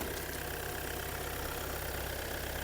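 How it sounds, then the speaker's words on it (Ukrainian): A 2021 Volkswagen Tiguan Elegance 4Motion engine idles steadily and smoothly, a close, even mechanical hum with no knocking and nothing else heard. "мотор працює ідеально"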